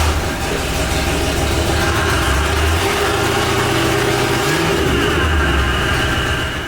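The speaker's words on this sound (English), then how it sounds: "Listen to the manifold leak." A $2000 Cadillac engine with an exhaust manifold leak runs at a steady idle, a loud continuous rumble with a low droning hum and a faint ticking texture that persists alone throughout.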